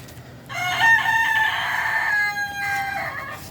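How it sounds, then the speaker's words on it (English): A rooster crows loudly and close, one long drawn-out cock-a-doodle-doo that trails off. "How rude, Rooster."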